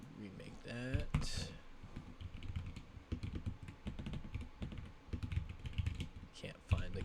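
Typing on a computer keyboard while working through JavaScript coding exercises: irregular bursts of close key clicks and taps, with a person talking quietly over parts of it.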